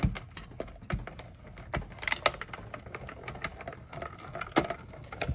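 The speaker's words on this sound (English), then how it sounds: "The miniature die cut machine certainly comes in handy." A miniature die cut machine presses cardstock and a metal die between plates, making a series of sharp clicks and clacks with uneven spacing. The sounds are close and fairly quiet.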